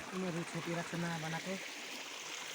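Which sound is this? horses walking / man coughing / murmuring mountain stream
murmuring mountain stream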